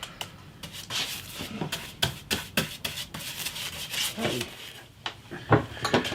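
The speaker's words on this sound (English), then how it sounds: "I'm just going to give this a coat of varnish just to seal the wood" A coat of varnish is brushed onto the wood of a 50-year-old acoustic guitar under repair, giving close, dry rubbing strokes in an uneven rhythm with occasional light knocks.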